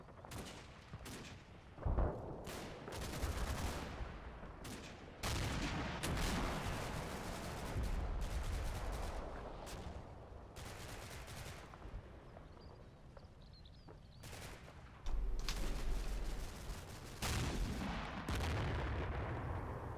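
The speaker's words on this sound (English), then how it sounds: "Howitzer doing howitzer things." Howitzer artillery fires in Combat Mission: Battle for Normandy, with repeated heavy booms at irregular intervals and rumbling between them, moderately loud and with no talking.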